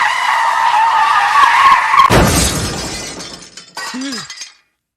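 A car skids with a sustained screech, then slams into two parked cars in a loud crunching impact with breaking glass, followed by a brief short cry.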